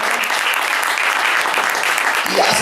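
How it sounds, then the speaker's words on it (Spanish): A church congregation clapping loudly together, a dense sustained burst of applause filling the whole moment. "Denle fuerte palmas al Señor si lo crees en tu corazón."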